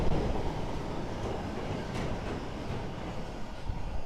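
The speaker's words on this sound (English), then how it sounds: "That train was holding like 1 million cars, and it's finally ended. Really loud." A long train rolls past close by on the track at Leighton Buzzard, a loud, steady rumble with rail noise and faint clacking that carries on unbroken, with no talk.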